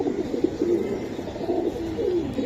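Hammer pigeons at a market cooing in low, rolling repeated calls, close and steady, with a soft murmur of other birds behind them.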